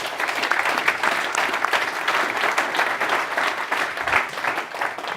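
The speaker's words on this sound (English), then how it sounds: "Please give Stefano an applause." Audience applause at a last-mile delivery meetup, a steady wash of many hands clapping at a close, even volume for the whole stretch.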